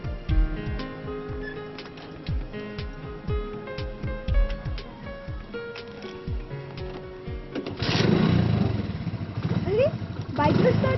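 A motorcycle engine sputters with rapid, regular mechanical pulses as it starts and runs for several seconds. A louder, broadband rush of noise then takes over for the final stretch.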